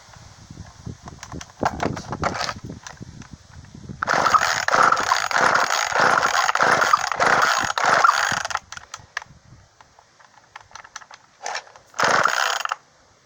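Briggs & Stratton motor on a non-running chainsaw being cranked to start, heard as repeated rhythmic mechanical rasping pulls with ratchety clatter, loud and close, in bursts with pauses between, with no voices.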